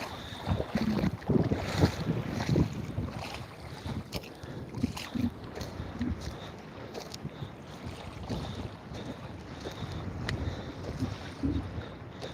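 Steady wind gusts and microphone buffeting over open water beside a small fishing boat, with a constant rushing roar and occasional sharper knocks throughout.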